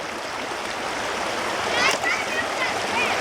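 River water flowing and splashing on the Murray River, a constant rushing wash with a louder splash near the middle, while voices talk over it.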